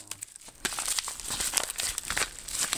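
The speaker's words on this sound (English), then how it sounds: "The bubble wrap. Bubble wrap pretty tough right now. Kind of fighting." Scissors cut open a tough bubble wrap packaging around a hard case for an Apple iPod Touch 4G, giving a steady close crinkling and rustling with sharp crackles, alone after a brief quiet start.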